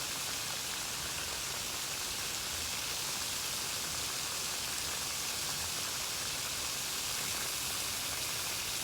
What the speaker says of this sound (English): call it rainy day at Chester